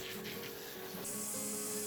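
Water sprays steadily from a hose nozzle, a close, continuous hiss that brightens partway through.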